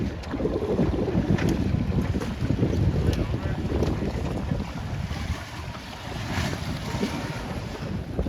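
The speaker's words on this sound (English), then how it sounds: "We have little bursts of wind coming through." Gusts of wind blowing across open water at a C420 sailboat race, roaring and buffeting the microphone in surging bursts, with waves and boat noise underneath and no clear talk.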